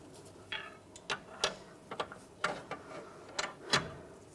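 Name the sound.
loosening a ball joint nut on a Volkswagen Beetle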